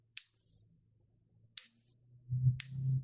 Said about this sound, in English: That's the sound of a natural bangle with some translucency.